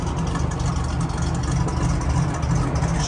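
1969 Camaro Z28 with a DZ302 V8 idling, a close, steady, lumpy rumble with an even throb throughout, heard alone without talking.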